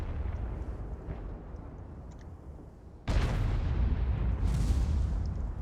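Artillery fire in World of Tanks: a single heavy boom erupts midway through the clip, rising sharply over a constant rumbling game background.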